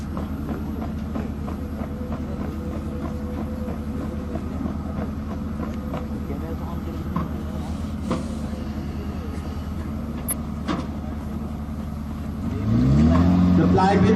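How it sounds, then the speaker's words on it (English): A towed artillery gun moves slowly under its own auxiliary power unit toward a firing platform, giving a steady, heavy mechanical drone with rattling. It swells into a louder, rising whine near the end. "The gun is now being moved away to its firing platform to demonstrate its firing."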